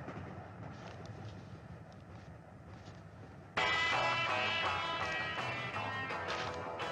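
Moving train heard from inside a carriage, a steady low rumble that jumps abruptly louder halfway through with rattling and clattering, no voices.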